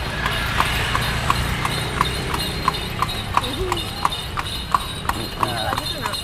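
Horse hooves clip-clop on a paved street during a horse-drawn delman carriage ride in Malioboro, Yogyakarta: a steady, even trot of loud, close hoof strikes over rumbling traffic and street noise.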